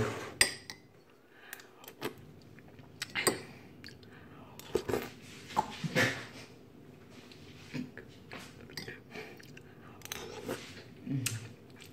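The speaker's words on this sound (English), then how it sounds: "I'm going to be drinking tea with a spoon" A spoon clinking against a cup while tea is drunk, in irregular sharp taps and scrapes over about twelve seconds, mixed with sips and mouth noises in a quiet room.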